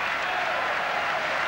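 A crowd at a 1990 swimming race, the men's 200 metres breaststroke, claps in a dense, steady wash of applause. It is close and continuous throughout the short moment, and no voices stand out.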